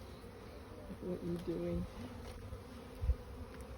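Honeybees hum from an opened hive during a spring split in Durango, Colorado, a steady low drone under a man's brief speech, with a few louder close thumps near the end.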